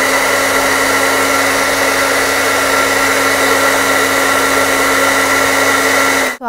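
A kitchen mixer grinder blends dates and tamarind into a sauce, giving a loud, steady motor whine that holds constant for several seconds and then cuts off abruptly at the end.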